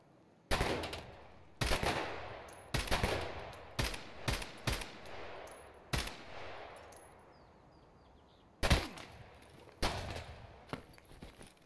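Heavy shotgun blasts from Escape from Tarkov boom out one at a time in uneven bursts, around a dozen sharp reports, each trailing into a decaying echo.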